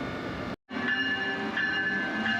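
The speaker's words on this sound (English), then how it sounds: "Meanwhile, the train next to us is now leaving for Boston." Neighbouring Amtrak train departing for Boston, a moderate rolling rumble with a steady high whine or squeal running through it, after a brief dropout at the start.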